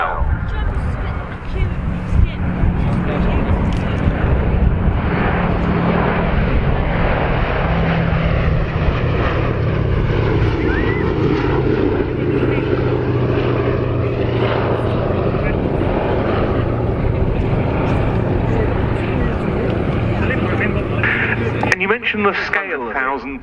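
The B-17G bomber Sally B drones overhead at an airshow with a steady, continuous piston-engine roar, loud and sustained throughout, while a commentator talks over the public address.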